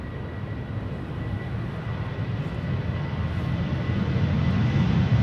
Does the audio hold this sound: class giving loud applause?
no